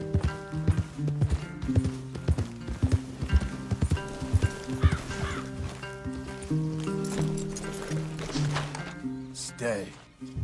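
Horses clip-clopping in the Red Dead Redemption 2 video game, a busy run of hoof beats heard amid game music and dialogue, with voices talking over much of it.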